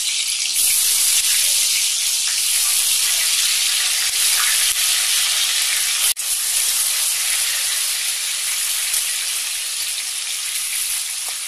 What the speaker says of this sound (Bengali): তেল গরম হয়ে গেছে, এবার আমি নুন হলুদ মাখানো আলুগুলো সেদ্ধ হওয়া পর্যন্ত ভেজে নেব।